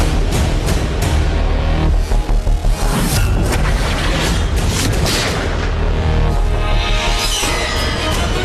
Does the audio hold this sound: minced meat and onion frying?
no